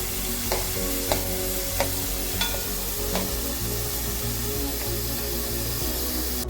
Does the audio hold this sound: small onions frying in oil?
yes